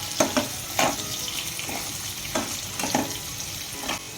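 Onions frying in a pan for jowar upma, cooked only to light brown: a steady sizzle broken by several sharp scraping stirs and clatters at irregular intervals, close and moderately loud, with no talking.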